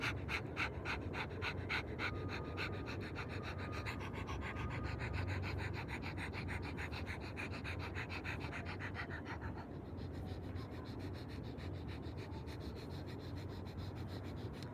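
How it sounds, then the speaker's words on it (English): A person pants like a dog with tongue out during a guided breathing exercise, producing rapid, steady, breathy huffs that continue evenly throughout at a soft, close level. "You're going to stick your tongue out and pant like a dog."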